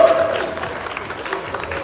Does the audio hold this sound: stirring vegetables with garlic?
no